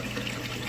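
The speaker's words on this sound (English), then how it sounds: "the water overflows into the pipe" Water overflowing into the siphon pipe of a small modular aquaponics system, a steady close rushing trickle with no voices.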